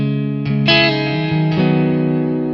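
An electric guitar played through a Kiesel Hyperrig rings out in sustained distorted chords drenched in heavy reverb, each attack blooming into a long washy tail that smears into the next.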